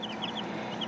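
Chickens clucking softly in a short burst, including big black roosters thought to be blue Orpingtons, with high chirpy calls over a steady farmyard murmur.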